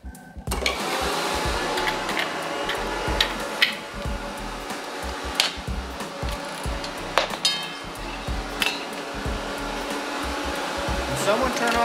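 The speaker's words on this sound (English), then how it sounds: "Can someone turn off the hairdryer?" A hair dryer drones steadily throughout a workshop where a chain reaction machine is being built, with clinks and knocks of handled objects scattered over it.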